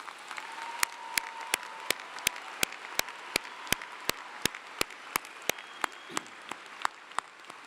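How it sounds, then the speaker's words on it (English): At a Clemson spring commencement, applause from a large audience rolls on as a broad, steady wash, punctuated by regular sharp clicks. "I think you all deserve a very loud round of applause."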